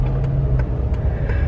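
A Honda Civic engine idling with a newly installed K&N short ram air intake, a steady low rumble close by with faint periodic ticking on top and no talk.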